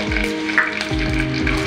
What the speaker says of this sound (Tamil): இந்த மண்சட்டியில் எண்ணெய் விட்டுருக்கேன், எண்ணெய் கொதிக்குது.